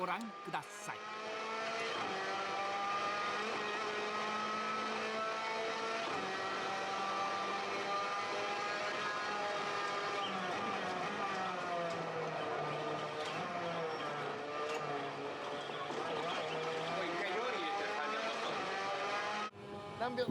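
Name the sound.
F3 formula race car driving on Macau track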